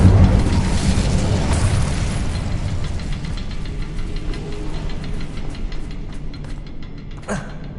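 Incendio fire spell cast in Hogwarts Legacy, a loud roaring whoosh of flame bursting at the start and rumbling on as it slowly fades, with a sharp crackle near the end.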